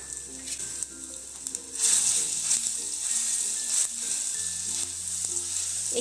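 Cumin and garlic-ginger paste sizzle in a little oil over low heat for a sambar vadi filling, a continuous bright frying hiss that swells after a couple of seconds, with light stirring clinks and no talk.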